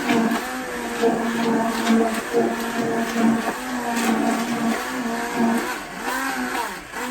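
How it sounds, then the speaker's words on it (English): A hand blender whirs steadily, its motor pitch wavering up and down as it churns through a thick, lotion-like homemade laundry detergent, continuous with no talking. "And start blending the top of it in."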